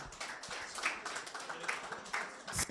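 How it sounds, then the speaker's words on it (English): Scattered applause from a panel audience at a business event: a thin, quiet patter of claps with a few sharper hand strikes, fairly distant and uneven throughout. "Yes, you can applaud."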